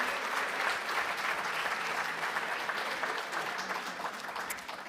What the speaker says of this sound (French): Je crois que ces applaudissements permettent de ne pas faire de commentaires sur l'intérêt de votre intervention.